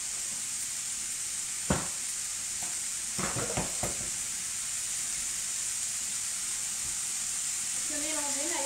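Vegetables for a vegetarian lasagna sizzling gently in a pan, a steady low hiss broken by a few sharp utensil knocks, with a voice briefly heard near the end.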